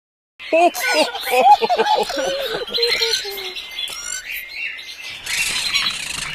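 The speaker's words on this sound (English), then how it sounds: "Keats, the parakeet said back." Parakeet squawks and chirps from a children's storybook app about a big pet show, a series of shrill calls in the first seconds mixed with narration and laughter-like voices, then fading to faint chatter and soft background sound.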